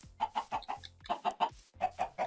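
Repeated soft chicken clucks in Minecraft hardcore mode, in quick, uneven bursts, a steady series of short bawk-like calls close by with brief pauses.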